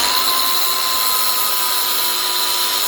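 Power tool grinding the corners off a metal pipe, giving a steady, loud, high-pitched whine that holds constant throughout with no talking.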